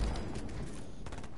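Rapid gunfire in a video game aimed at a decoy, a short continuous burst of fast shots heard at moderate distance for just over a second.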